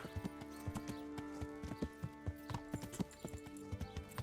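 Horse hooves clip-clop in the medieval video game Kingdom Come: Deliverance, a quiet, irregular trot of clops over a low game-world ambience, with no voices.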